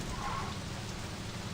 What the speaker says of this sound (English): Definitely doesn't make me feel like I'm in a more realistic atmosphere that it's raining